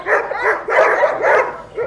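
An eight-month-old dog on a farm barks up close and loudly, giving about four rough barks in quick succession with no voices.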